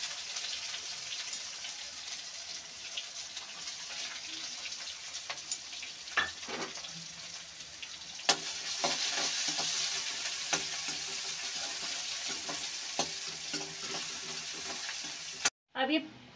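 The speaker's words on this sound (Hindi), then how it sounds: "अब ये प्याज भुन चुके हैं और ब्राउन हो चुके हैं।" Chopped onions frying in a pan with ginger-garlic paste, green chillies and curry leaves for pakora kadhi, producing a steady crackling sizzle with occasional spoon stirs and clinks, close and without talk, ending abruptly.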